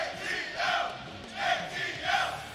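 Tournament crowd at a fighting-game top 8 chanting "ATL" in rhythmic, swelling rounds of many voices. Each shouted pair of syllables repeats several times, loud and reverberant across the hall.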